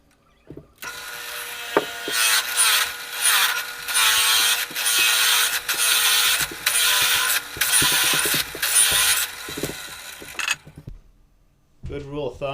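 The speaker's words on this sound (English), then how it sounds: "I've got a 1-inch mason bit here, and I'm going to use that to bore out the hole" A 1-inch mason bit bores a hole through pine, giving a loud, close, grinding drill sound in pulsing bursts for about ten seconds before it stops.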